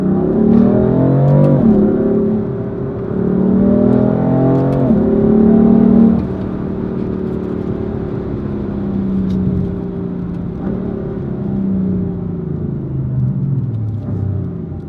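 A BMW M4 accelerates hard in second gear, its engine note rising loudly in long sweeping pulls with a shift partway through, then settling into a steady rumbling drone.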